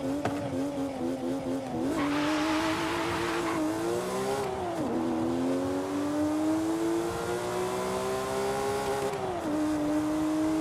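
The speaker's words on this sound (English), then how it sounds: "you gotta rev it up. 5-6K is pretty good for a Porsche" A Porsche engine in Forza Horizon 5 revs hard and holds a high, steady whine, with tire squeal and skidding as it launches and drifts; loud and continuous throughout, with no talk.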